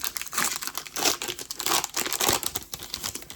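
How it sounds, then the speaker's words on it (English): Foil of a Pokémon card booster pack from a Black Bolt set crinkling and tearing open in several loud, close bursts of crackle, each separated by short pauses, with no voice. "I love ripping packs."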